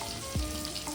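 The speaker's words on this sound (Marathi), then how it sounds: "वाम माशाचे तुकडे मस्तपैकी तव्यावरती टाकले" Pieces of yellow vam fish fry in oil on a hot tava. A steady, close sizzle of frying runs throughout with no talk.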